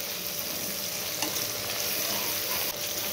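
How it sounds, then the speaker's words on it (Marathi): Vegetables being stirred in a frying pan with potatoes, lightly salted, steady soft sizzle with faint scraping throughout, close and even, no voices. "व्यवस्थित हलवून घ्यायचं आहे"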